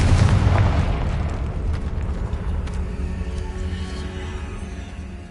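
A Confringo fire spell bursting in Hogwarts Legacy, a loud booming explosion up front that rolls into a long rumbling decay over several seconds, alone with no voices.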